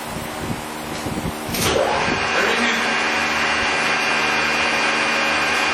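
A 17.5 by 33 inch Mori Seiki lathe runs at speed, a steady loud mechanical whir and hum that rises after a brief clatter and holds without pause through the end, with no talk over it.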